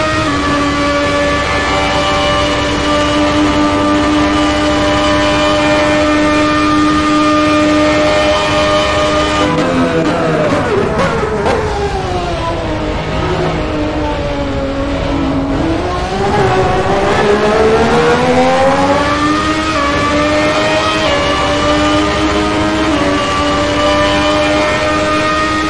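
A 1994 Formula 1 car in a racing game mod screams through its gears, the high-revving engine holding steady, dipping as it slows, then climbing again under acceleration, loud and close, with no talk.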